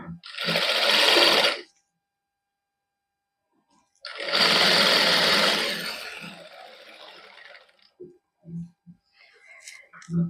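A domestic sewing machine runs in two bursts of stitching while a lace border is sewn onto a Karva Chauth outfit with six colours of reel thread, a long near run followed by a shorter one, with a few soft clicks and a voice talking at the end.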